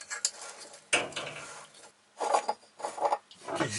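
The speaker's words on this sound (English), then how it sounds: "I think I'm probably going to have to chisel away the wood to get my flat surface" A chisel pares away wood in a cramped spot inside a boat hull during a composite seacock installation, making close, short bursts of scraping and tapping separated by brief pauses.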